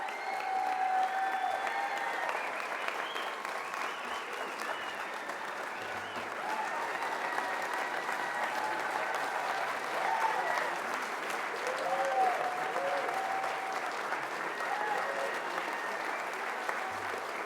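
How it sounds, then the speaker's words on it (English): An audience applauds the New Horizons mission team at an evening mission update briefing: a steady, dense wash of clapping and crowd noise that keeps an even level throughout, with some voices heard faintly underneath. "another round of applause to the New Horizons team for a job well done."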